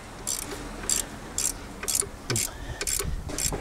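A ratchet wrench loosening a 12 mm lock bolt during alternator replacement on a 2001 Toyota Avalon: sharp metallic clicking bursts repeat in a steady rhythm of short strokes, close and clear over a quiet workshop background.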